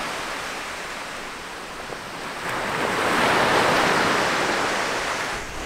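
Ocean surf at Adventure Bay beach on Bruny Island, Tasmania, a continuous broad wash of waves that swells louder midway as a breaker rolls in, with some wind noise.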